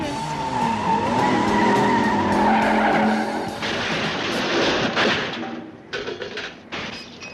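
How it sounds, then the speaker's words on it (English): A car engine roars and revs loudly in a Wonder Woman television episode, then tires screech and skid, with sharp bursts of noise trailing off near the end. "She lets him get the engine good and revved up."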